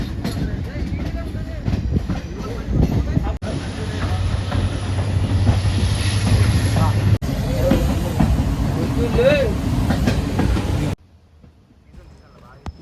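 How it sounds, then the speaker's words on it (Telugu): A train runs along the rails near Dudhsagar in Goa, a loud, continuous rumble and clatter lasting about eleven seconds, with voices heard over it, before it drops abruptly to near quiet. "అలా వెళ్తుందిరా ట్రైన్."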